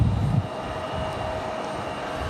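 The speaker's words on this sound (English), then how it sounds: "Got this CRJ on the move though." A Delta CRJ regional jet taxiing at Raleigh-Durham airport, its engine a steady broad rumble and whine that holds evenly throughout, with a faint high tone riding above.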